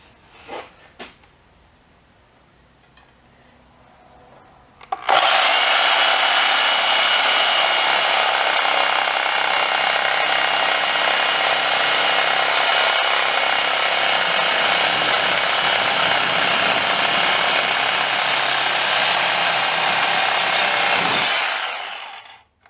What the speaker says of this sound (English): So anyway, I got my sawzall I'll be using.